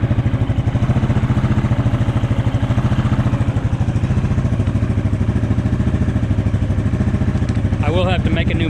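A modified Yamaha Grizzly 700 ATV with a hotcam, ported head and Coops clutch runs at a fast idle up close, its single-cylinder engine chugging in a steady, even pulse throughout.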